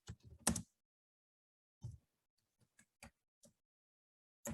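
Sparse keystrokes on a computer keyboard: a quick burst of taps, a pause, then single scattered clicks at irregular intervals, close and fairly quiet.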